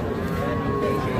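A Sahiwal bull calf at a cattle market gives one sustained, nearby moo that fills the whole moment.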